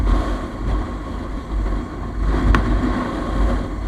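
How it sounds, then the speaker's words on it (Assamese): Strong wind roars loudly and steadily over the microphone during a motorbike ride near Tezpur, a heavy low rumble with gusty buffeting throughout and no talk. "বতাহ বহুত বেছি বতাহ মাৰিছে"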